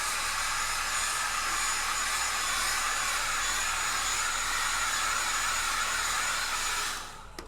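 A hair dryer blows steadily and loudly on a layer of a latex bald cap, a continuous airy roar that holds level for about seven seconds, then cuts off near the end.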